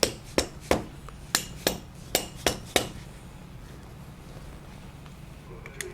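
A tool taps on a lathe chuck while its bolts are loosened. About eight sharp metallic knocks ring out in an uneven rhythm, close and clear, then fall quiet.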